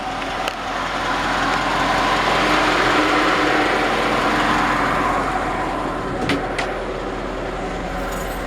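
A 1950 Ford F5 truck's flathead V8 runs at a steady idle, a continuous close, moderately loud rumble with a smooth low hum and a couple of brief clicks.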